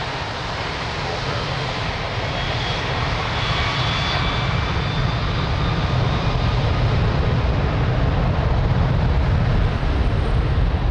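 An airplane takes off from runway 02 at Lisbon Airport, a loud, steady engine roar that holds for the whole stretch and swells slightly toward the end, heard from nearby.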